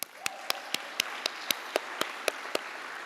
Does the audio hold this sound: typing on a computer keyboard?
no